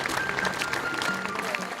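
Applause and crowd noise as a coffin is carried to the car at the close of a footballer's funeral ceremony, a steady dense clatter of clapping with no clear break over almost two seconds.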